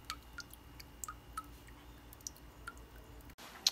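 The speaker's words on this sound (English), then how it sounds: "I don't know if you guys can see it's dripping." Water leaking from household plumbing drips in sparse, irregular drops, each a small sharp tick, about eight over a few seconds at close range in a quiet room, with a faint handling click near the end.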